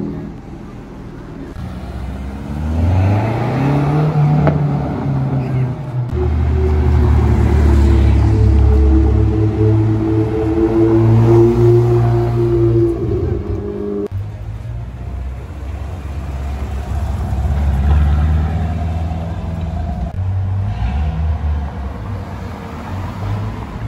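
Mercedes A45S and BMW M4 cars accelerating on a street in Knokke, loud engine notes rising in pitch through gear changes, a strong surge in the middle followed by a second pass, nearby and dominant.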